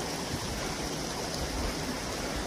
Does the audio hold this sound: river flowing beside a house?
yes